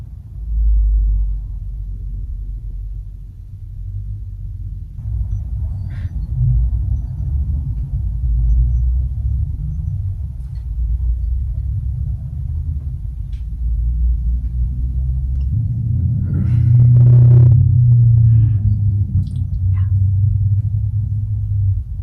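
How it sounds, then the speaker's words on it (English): Heavy, deep rumbling rolls on continuously and swells louder near the end, like big trucks passing close by and shaking a building. "You know it's bad when the house vibrates. Oh my God, are these trucks?"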